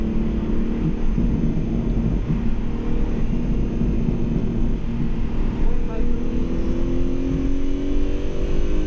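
A race car on a wet track at Watkins Glen International on a rainy track day, its engine a loud, continuous close-up drone with rising revs as it climbs a hill.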